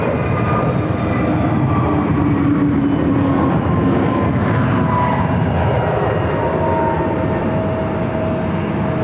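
An American Airlines jet takes off at Phoenix airport, its engines giving a steady, loud broadband roar with a faint whine that holds throughout without pause or voices.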